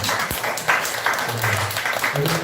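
Applause from a crowd, a steady wash of clapping lasting a couple of seconds, moderately loud with some murmuring underneath.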